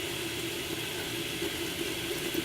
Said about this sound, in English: We're going to put enough water to cover the beans.